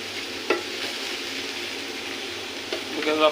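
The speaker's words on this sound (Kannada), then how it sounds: "ನೋಡಿ ಯಾವ ಥರ ರೋಸ್ಟ್ ಆಗ್ತಿದೆ ಅಂತ." Minced chicken keema roasts in a pan, giving a steady soft sizzle with a few brief scraping stirs, close and alone with no talk.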